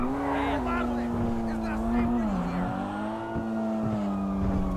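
In GTA V, a fast car driven in first-person view hums with a steady, loud engine drone that dips and rises in pitch as it accelerates, while someone talks over it.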